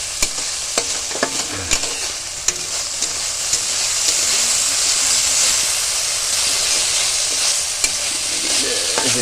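Food fries with a loud, constant sizzling hiss in a pan while being stirred, with sharp scraping clicks of the utensil at irregular intervals throughout.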